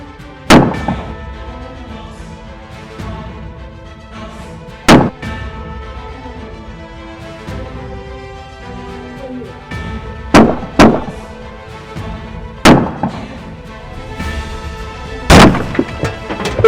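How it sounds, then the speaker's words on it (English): High-power rifle gunfire during a roadside police confrontation with a deputy pinned behind a patrol car: loud, sharp shots fired in irregular bursts, singles and closely spaced pairs, over a steady background rumble, with no talk. "He's got a high-power rifle shooting at me."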